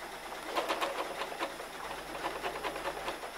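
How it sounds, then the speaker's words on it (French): A sewing machine stitching the end of a garment during invisible zipper installation, running in short, even mechanical bursts with a steady rhythmic whir, close and moderately loud. "On coud le bout du vêtement"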